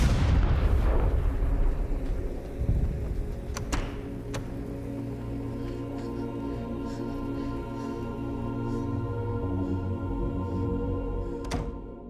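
A grenade explosion in the sci-fi film Annihilation, starting with a loud, deep blast that rolls into a long, sustained rumble with scattered crackles and sharp pops throughout.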